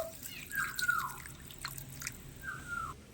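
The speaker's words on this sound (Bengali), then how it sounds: "এবার এই লবণ জলের মধ্যে একটু ভালো করে ধুয়ে নেব একটু জল পাল্টে পাল্টে ধুয়ে নেব" Sliced hog plums being washed by hand in salt water in a bowl, giving faint, quiet splashes and drips with soft sloshing and no voices.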